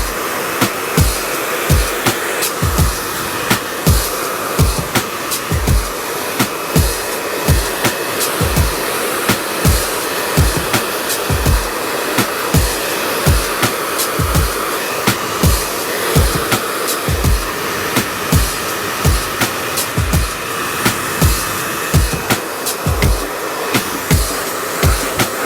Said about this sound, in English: Blow drying is about product, tension